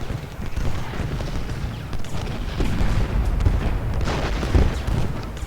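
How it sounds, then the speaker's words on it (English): Musket volleys from a multiplayer battle in the Civil War strategy game Ultimate General: Gettysburg form a dense, continuous rumble of crackling shots and low booms, with a few louder bursts standing out. "Let's make sure that Daniel is still shooting. I want to make sure Iverson's still shooting too"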